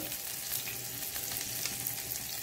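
Dosa masala ingredients fry in a pan for a Kuchalakki masala neeru dosa, giving a steady, even sizzle at moderate level with no talk.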